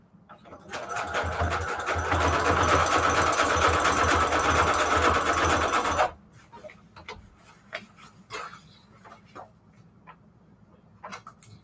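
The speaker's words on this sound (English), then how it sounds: "Let's go with the widest, longest zigzag stitch we can do." A sewing machine runs a wide, long zigzag stitch for a junk journal: a loud, steady mechanical whir for about five seconds that stops abruptly, followed by quieter scattered clicks and handling noises.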